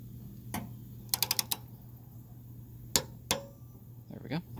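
A torque wrench tightens a bolt on an Indian Springfield or Chieftain motorcycle sissy bar, giving a few sharp isolated clicks and a quick cluster of taps at close range against a steady low hum.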